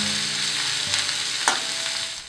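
Onion drops into hot mustard oil for Bengali aloo posto and fries with a strong, continuous hiss. A couple of sharp clacks from a utensil break through, and there is no talking.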